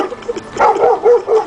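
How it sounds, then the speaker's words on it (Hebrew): A dog gives a few loud, close, short barks and yips in quick succession, with no one talking over them. "הנה הכלב."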